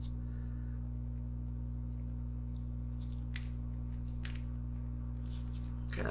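Scissors snip through thick cotton wick for a mesh coil vape build, several short crisp cuts spaced irregularly over a steady low electrical hum, close and fairly quiet.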